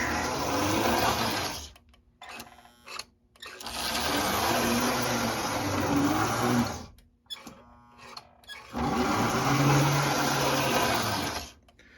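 Motor of an American Flyer 570 toy train locomotive, freshly sprayed with WD-40, whirring loudly in three sustained runs of a few seconds each, separated by short stops with clicks.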